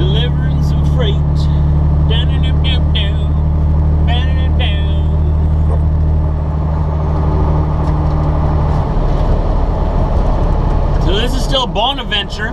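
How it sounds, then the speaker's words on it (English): A freight truck drives down a highway in eastern Quebec, its steady engine and road drone running loud and continuous throughout while someone talks over it. "Driving down the highway, delivering some freight."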